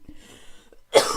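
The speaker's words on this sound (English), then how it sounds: "I had the flu last week and the cough hasn't gone away yet." One sharp, loud cough from a person with a lingering flu cough bursts out near the end, after a stretch of faint low background sound.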